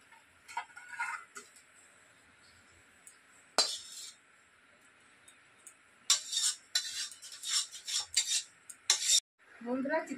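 A spoon stirs food in a kadai with intermittent metallic scrapes and clinks, sparse at first and then in a busier cluster of strokes toward the end, close and fairly quiet.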